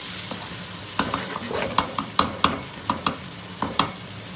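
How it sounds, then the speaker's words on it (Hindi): A spoon scrapes and stirs chopped tomatoes into sizzling onion masala in a pan for black chana curry, with a dozen sharp clinking strokes at a steady pace over a constant close fry, and no talking. "पूरा इसको मिक्स करेंगे।"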